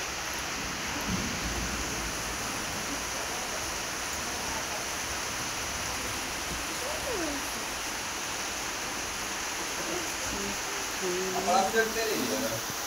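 Heavy monsoon rain falling steadily, a dense continuous hiss throughout with faint voices briefly near the end.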